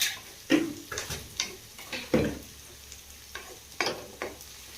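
Onions cooking in desi ghee for saag, with soft intermittent scraping and stirring strokes over a faint low sizzle, close and fairly quiet, no talk.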